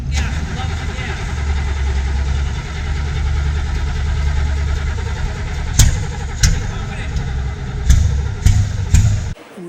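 An unmuffled 1966 Corvette 427 vintage racecar engine runs loud and close with a deep, lumpy idle, then several sharp throttle blips rise and fall, while someone talks over it.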